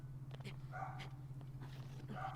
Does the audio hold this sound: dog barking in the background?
yes